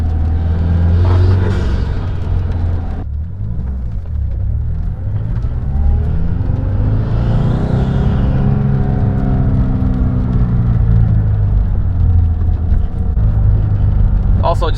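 A 2018 Subaru WRX fitted with a GrimmSpeed turbo inlet and a Nameless Performance blow-off valve drives through a neighborhood on light throttle, with a loud continuous engine and intake drone and rising whir heard from inside the car, a person talking over it.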